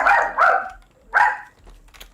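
Dogs in a video game bark three times, in two quick yaps followed by a single louder bark after a short pause, fairly close, with no talk.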